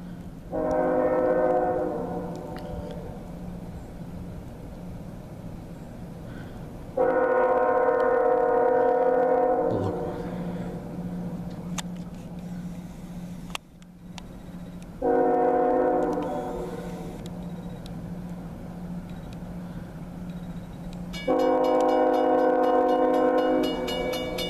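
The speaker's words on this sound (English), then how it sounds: "There's the train." A Norfolk Southern freight train rumbles past while its horn sounds four long, loud blasts with short gaps between them.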